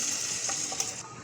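Tikka boti meat sizzles in hot cooking oil in a karahi, a steady, close, bright hiss that runs unbroken throughout with no talking.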